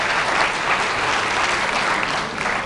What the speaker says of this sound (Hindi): तालियों की ये गूंज